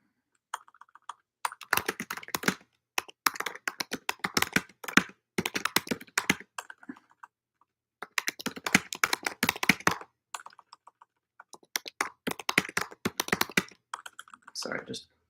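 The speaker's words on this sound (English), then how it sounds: "just getting it typed out right" Someone types on a computer keyboard in bursts of rapid, close clicking and tapping, stopping briefly between phrases, with a few heavier key strikes.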